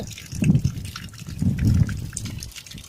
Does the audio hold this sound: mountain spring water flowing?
yes